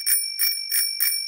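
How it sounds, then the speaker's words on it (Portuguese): A bicycle bell rings four times in an even, quick rhythm, each ring bright and sustained, close and clear with no talking. "Eu tocaria o meu sino."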